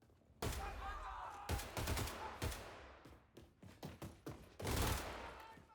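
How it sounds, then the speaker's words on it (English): Rapid close gunfire in Wolfenstein II's Mein Leben DLC, bursts of automatic shots followed by a string of separate loud single shots and another heavy burst. "I just shoot these two as quickly as I can."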